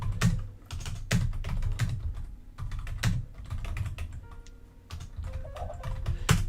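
Rapid typing on a computer keyboard, with close, dense clattering keystrokes and brief pauses over several seconds and no voices.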